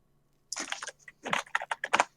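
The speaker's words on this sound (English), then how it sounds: "You heard me typing notes." Rapid irregular keystrokes on a computer keyboard, close and clear, arriving in short bursts after a brief silence, with no voices.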